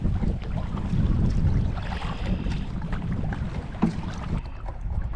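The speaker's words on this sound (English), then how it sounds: "Probably about a 5 or 10 mile an hour wind." Wind buffets the microphone while paddling a kayak or canoe on Fox Lake on a cool spring morning, a steady low rumble of gusts near and loud with faint water movement, no talking.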